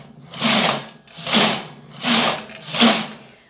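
A Brother knitting machine carriage slides across the needle bed in holding position, making four loud, even whirring passes about a second apart, each rising and fading, with no talking.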